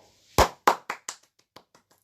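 One person claps several times, starting loud and quickly tapering off into softer, sparser claps.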